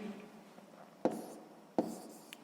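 A pen writes out the answer to a sixth-grade math equation on paper, with two short, distinct scratching strokes near and quiet, separated by a pause. No talking is heard.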